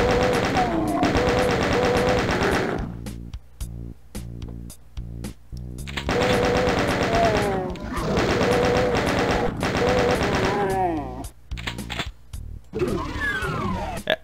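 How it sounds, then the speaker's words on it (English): Rapid automatic fire from the chain gun in Doom 2, loud sustained bursts broken by short pauses, with other game sounds and monster noises mixed in near the end. "this is where I like to switch to the chain gun"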